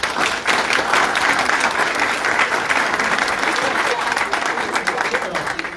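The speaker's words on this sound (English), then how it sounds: "Let's give them a big round of applause." Loud, sustained applause from a school board meeting audience honoring a school cheerleading team, dense steady clapping filling the whole stretch with some crowd noise mixed in.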